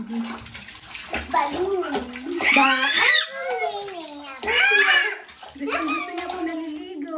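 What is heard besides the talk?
water splashing as a child bathes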